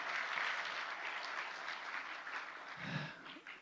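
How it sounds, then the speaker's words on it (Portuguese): A church congregation applauds its visitors with a soft, fairly distant round of clapping that holds steady, and a low voice or murmur surfaces briefly near the end. "Uma salva de palmas para os nossos visitantes"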